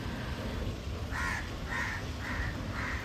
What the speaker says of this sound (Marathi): कावळ्यांचा पण खूप आवाज येतोय.